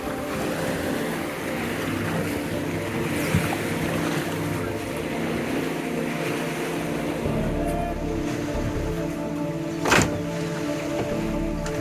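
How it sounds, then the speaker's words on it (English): A motorboat carries passengers across Lake Atitlan, its engine holding a steady, close drone over rushing water and wind, with one brief thump near the end. "Now we're getting on a boat."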